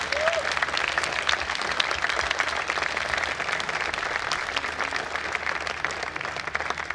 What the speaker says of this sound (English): you do deserve a huge round of applause from all of us